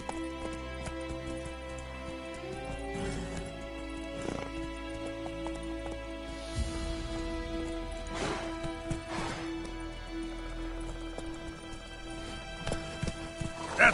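Roach the horse galloping in The Witcher, steady rhythmic hoofbeats with occasional snorts and a whinny over ambient game sound, fairly close and continuous.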